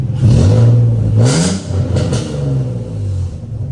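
A Nissan Z drift car with a nasty exhaust leak revs hard and close, its engine climbing and falling in a few throttle blips with a raspy, rough edge, loud and with no voices.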